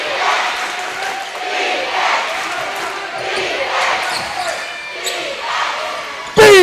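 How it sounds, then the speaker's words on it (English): Loud basketball crowd at a men's NBL1 finals game between Frankston and Nunawading, a sustained roar of cheering and shouting with ball bounces and squeaks throughout, ending in a sudden sharp burst. "This crowd has gone up another notch now."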